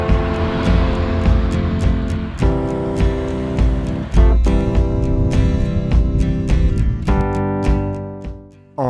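A Renault 19 16S runs under load, its engine note rising through the revs with gear changes, loud and close with no voices.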